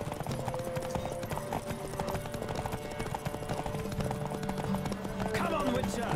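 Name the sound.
horse galloping in video game The Witcher 3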